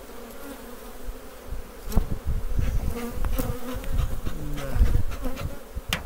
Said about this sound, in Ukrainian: Бджола просто по руках б'є.